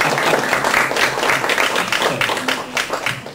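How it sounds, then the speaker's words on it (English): An audience in a Cochrane, Wisconsin gathering claps and applauds steadily, a dense, loud patter of many hands throughout with no pause. "Should we all stand up and cheer Rudy?"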